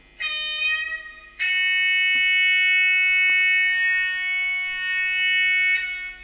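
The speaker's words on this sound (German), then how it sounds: "So, you can hear the horns continuous." A DCC sound-equipped Arnold DB BR181 model electric locomotive sounds its horn: a short high tone, a brief gap, then a long sustained two-tone blast held for several seconds before it cuts off.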